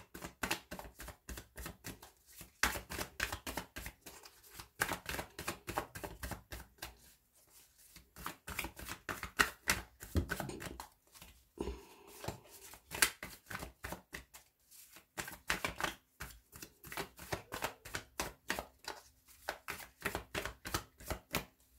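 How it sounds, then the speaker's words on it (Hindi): Tarot cards are shuffled over and over in a dense, rapid run of crisp riffling snaps and flutters, repeating steadily for about twenty seconds with a few brief pauses, close and clear with no talking. "ये मैंने कर लिए हैं शफल"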